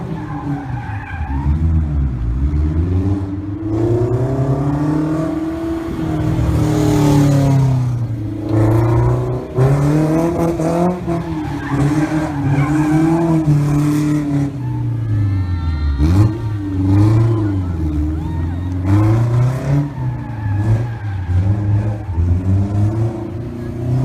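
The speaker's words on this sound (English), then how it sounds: "showing off some pretty cool rear-wheel drive mid-engine donuts" A Factor Aurelio mid-engine, rear-wheel-drive car spinning donuts, its engine revving and surging repeatedly while the tyres squeal and skid in long wavering sweeps, loud and close throughout.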